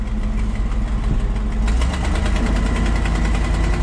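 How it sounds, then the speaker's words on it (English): A $700 auction crane's engine idles steadily nearby with a throaty, slightly knocking rumble, running continuously and alone, rising a touch in throttle midway as if readied to run the PTO. "Give that just a hair more throttle for running the PTO."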